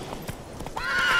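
Horse hooves clip-clop in The Witcher 3 video game, several close steps ending in a loud neigh, with no talking.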